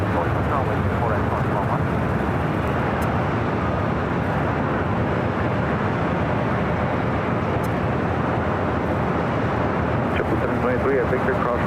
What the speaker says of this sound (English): Roberts, Frontier flights coming in from Dallas, Fort Worth, Texas